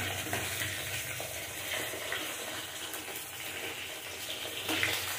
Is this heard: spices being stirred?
yes